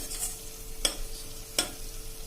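Masala spices sautéing in oil in a pan for a Kathiyawadi cluster bean curry make a soft, steady sizzle, broken by two distinct scrapes of a stirring spoon, with no talking.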